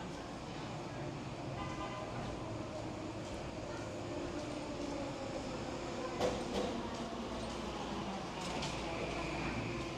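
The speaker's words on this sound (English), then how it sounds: "It's coming in right now. Here it comes. There's the Skytrain. It's moving really slow." A Skytrain creeps slowly into a busy station with a steady rolling rumble and faint whine, a few brief squeals and clanks near the middle, and a person talking over the train noise.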